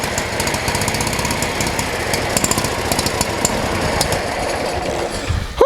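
A Briggs and Stratton Vanguard engine on a remote-control lawnmower runs loudly and close, a dense, steady rapid knocking drone with rattling and slight roughness throughout.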